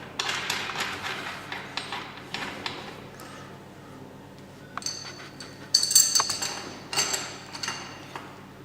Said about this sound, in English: This is where you'll need the 22 spanner here, just to tighten those up.